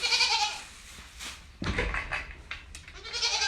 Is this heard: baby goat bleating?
yes